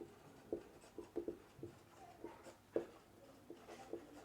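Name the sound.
writing on a board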